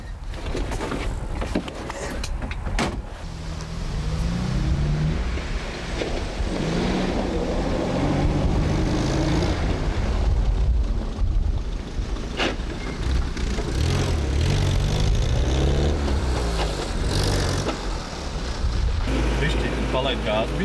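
A car engine idles and revs gently as a boy learns to drive, easing off the clutch and onto the gas, with a steady low rumble and shifting engine pitch running throughout under intermittent talk.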